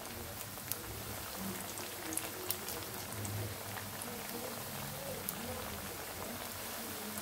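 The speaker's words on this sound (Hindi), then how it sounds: "7 से 8 मिनट हो गए हैं इसको मीडियम फ्लेम पे फ्राई होते हुए" Potato and poha bites frying in oil over a medium flame, a steady soft crackle and sizzle with occasional faint pops, heard alone with no talk.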